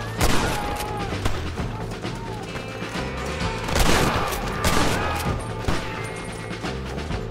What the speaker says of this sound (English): I like that gun ricochet sound. Very western-y.